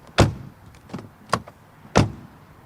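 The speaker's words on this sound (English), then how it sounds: "Door closing sound." A BMW X6 M50i door is shut several times in a row, giving three or four solid, close thumps spaced about half a second apart, with no talking.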